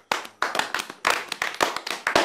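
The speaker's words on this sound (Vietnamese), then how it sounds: "Một tràng pháo tay cho anh Minh của chúng ta." A small group clapping for a young man on a Vietnamese reality dating show in a shared house, sharp distinct handclaps in quick uneven bursts, close and crisp, starting suddenly and continuing loudly.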